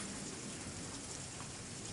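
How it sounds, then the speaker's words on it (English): Steady rain falls during a thunderstorm, a dense, even hiss of drops heard faintly from indoors without any distinct thunder crack. "It is raining and thundering and lightning."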